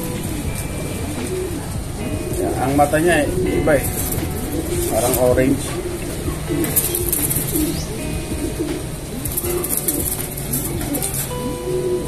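White pigeons coo repeatedly nearby in soft, rolling bursts while someone talks over them.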